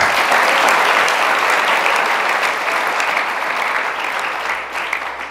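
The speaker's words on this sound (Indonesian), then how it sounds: "Mari kita tepuk tangan buat Tuhan." A dense burst of audience applause fills a hall at a gathering, loud and sustained for about five seconds before slowly tapering.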